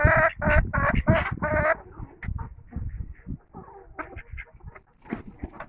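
Polish breed chickens call in a run of loud, close, repeated harmonic squawks, then settle into softer, scattered clucks and calls with a few brief bursts near the end.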